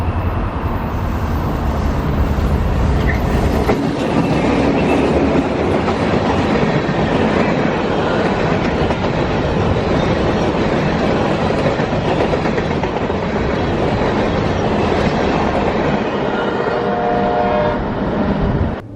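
A CSX freight train rolls past close by, a loud, continuous rumble and rattle of wagons lasting the whole stretch.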